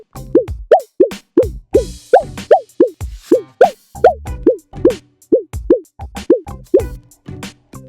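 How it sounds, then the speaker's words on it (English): Cartoonish bouncy jump sound effects from an AI-built, Doodle Jump-style vertical platformer game, repeating in a quick steady rhythm of springy rising plops, loud and close with no talk. "generating platforms and distinct sound effects for regular jumps versus breaking platforms."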